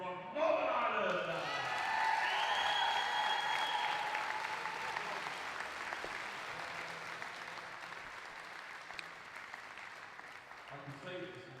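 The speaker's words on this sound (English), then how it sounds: "Please give a round of applause for the following teams." Audience applause at a school wheelchair basketball event fills the hall, loud at first and then thinning out, with a voice on the announcement system over it.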